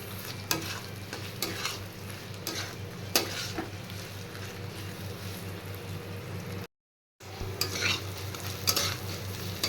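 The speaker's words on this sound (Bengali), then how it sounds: "এবার আমি ভালো করে ফ্রাই করে নেব" Fish-head curry ingredients sizzle steadily in a pan while a utensil scrapes and stirs in repeated strokes, with a brief silent gap partway through.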